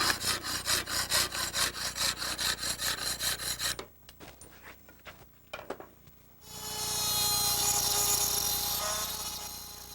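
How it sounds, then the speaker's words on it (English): A rod saw with an abrasive blade in a hacksaw frame cuts soft ceramic wall tile, giving quick rhythmic rasping strokes, then a few scattered scrapes after a pause and a steadier high grinding sound at the end, close and clear. "These wall tiles are fairly soft, so we're able to use a rod saw for some of our curved cuts."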